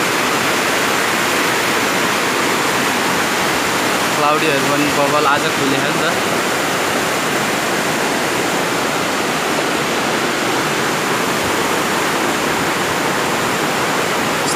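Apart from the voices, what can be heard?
flooded Midim river rushing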